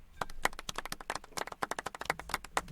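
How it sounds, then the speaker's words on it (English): Rapid, light hand claps from one person, a quick uneven patter of close, soft slaps lasting a few seconds with no voices. "Golf clap."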